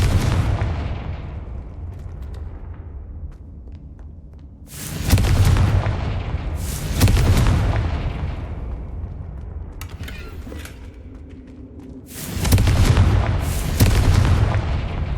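Explosive spell blasts from the Hogwarts Legacy video game, three loud booming detonations with long rumbling decays spaced several seconds apart, heard alone without talk over them.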